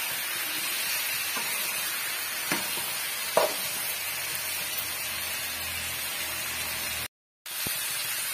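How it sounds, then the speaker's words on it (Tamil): Brinjals sauté in oil for Chettinad ennai kathirikai kulambu, a steady close sizzle and hiss with a few faint stirring clicks and one brief gap. "இப்ப நல்லா வந்து வதக்கி விட்டுடலாம்."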